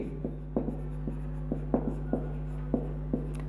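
A pen or marker scratches and taps across a board during a maths lecture on differentiability, making short, regularly spaced strokes over a steady electrical hum, with no voice.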